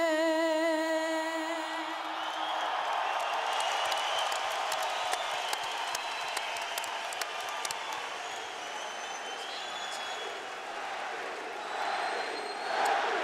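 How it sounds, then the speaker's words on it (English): Boxing arena crowd at the 2008 Manny Pacquiao vs David Diaz fight, a large distant roar of chanting and cheering with scattered claps, following the tail of a sung anthem. "The crowd chants for their man."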